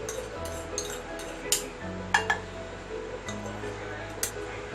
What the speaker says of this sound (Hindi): ये अभी घी डाल रही हूँ।